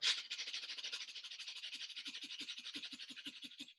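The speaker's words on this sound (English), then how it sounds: "breathe in and out 10 times fast fire breath" Fast, rhythmic breath of fire in a qigong session, a string of sharp nasal pants about four per second, close and steady.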